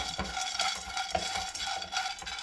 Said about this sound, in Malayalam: ഇനി സെയിം പാനിൽ തന്നെ ഒരു കപ്പ് പീനട്ട്സ് ഇട്ട് കൊടുത്തിട്ടുണ്ട്. ഇതും 2 മിനിറ്റോളം ഒന്ന് റോസ്റ്റ് ചെയ്തെടുക്കാം.